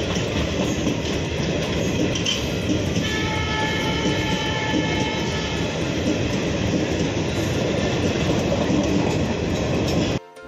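A train rumbles loudly and continuously through Mahesana railway station in Gujarat, with rolling wheel clatter and a sustained horn-like tone that enters partway through, then cuts off abruptly at the very end.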